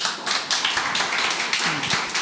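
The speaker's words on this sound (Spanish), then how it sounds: "Un aplauso para él." A small audience at a talk claps to welcome a newcomer, a brisk, dense patter of hands that runs steadily throughout.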